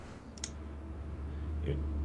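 A couple of quick, sharp clicks from a computer keyboard being typed on, heard close over a low background hum with faint voices.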